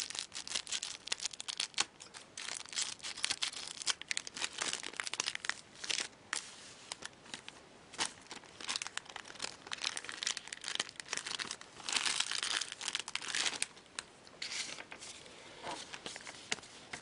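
Foil packs of KHL hockey cards are crinkled and torn open, a continuous close, loud rustle of crackling wrapper with sharp tearing bursts and brief pauses.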